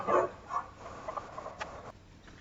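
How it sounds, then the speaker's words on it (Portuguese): A dog barks and whimpers briefly at a distance, a few quiet yips in a short burst, faint behind a room's background. "O cachorro começou a latir aqui."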